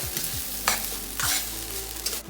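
Egg fried rice is stirred in a hot pan, the spatula scraping in a few quick strokes over a constant sizzle of frying.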